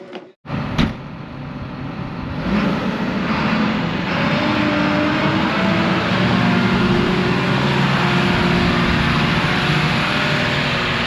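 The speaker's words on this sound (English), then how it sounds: "Another sprayer taking off." An agricultural sprayer pulls away across a farm. After a sharp knock at the start, a loud, steady engine roar and road noise build and hold without letup.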